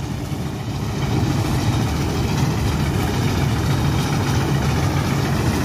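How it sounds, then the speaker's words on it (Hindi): Six-cylinder engine of a combine harvester in a field, running with a steady, loud low rumble and vibration throughout, with no voices. "तो आप देख रहे हैं इस प्रकार से आवाज करती है, क्योंकि इसमें 6 सिलेंडर इंजन होता है जो कि आपने ट्रकों में देखा होगा।"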